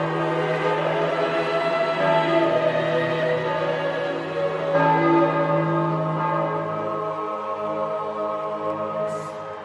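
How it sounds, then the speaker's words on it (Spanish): Church bells peal steadily at the Vatican after a papal election, a dense, sustained wash of overlapping bell tones ringing continuously without pause or voices. "pronto comienzan a sonar las campanas"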